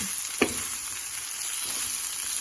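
Rice being stirred into a pan of frying SPAM for fried rice gives a steady close sizzle, with one sharp utensil clack near the start and no voices.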